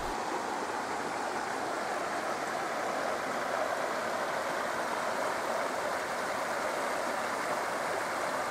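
Water flows steadily in a shallow desert canyon stream over a sandy bottom with smooth gneiss rocks at Bear Canyon near Tucson, a constant close rushing wash without pauses or voices.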